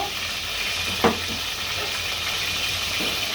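Onion sizzles in hot oil as it goes in for khichuri, a steady bright frying hiss throughout with a brief stir or clatter near the start, no voices.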